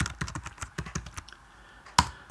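Rapid keystrokes clatter on a computer keyboard as C code is entered in Xcode, a quick run of close, crisp taps ending with one louder key press.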